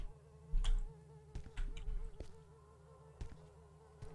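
Bees buzz around the player in the game Beyond The Evil, a droning insect hum that swells in loud bursts as a swarm passes close, over a quiet steady background.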